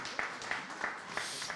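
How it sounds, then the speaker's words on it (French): A small audience at an evening event gives faint, quiet applause, heard as soft clapping with a few distinct claps spaced evenly, a little under a second apart. "on peut les applaudir"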